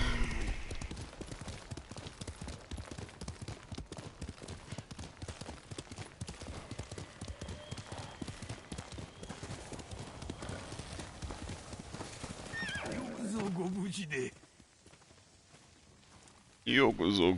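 Horse hooves clip-clop steadily in a Ghost of Tsushima battle, with an occasional whinny, running continuously for about fourteen seconds before cutting out and briefly returning at the end.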